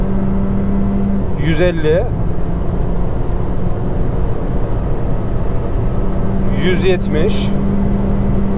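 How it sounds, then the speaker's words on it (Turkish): A 2021 Honda Civic 1.5 Turbo accelerates hard at high speed on a slightly inclined road. Loud, steady engine and road roar continues throughout, while someone briefly speaks over it twice. "Ya vites değişim efektleri ne kadar güzel."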